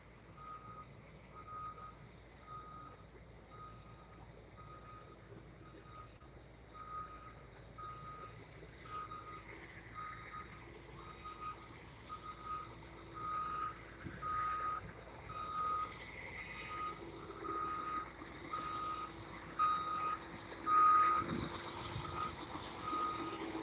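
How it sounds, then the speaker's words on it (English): A big truck backs up on a downtown Los Angeles street, its reversing alarm beeping in a steady, regular series while engine rumble grows louder toward the end. "Got a big truck coming here."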